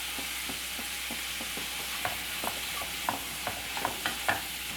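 Onion sautés in a pan with green chili and curry leaves, making a soft, even sizzle broken by a handful of quiet spoon taps and scrapes toward the end.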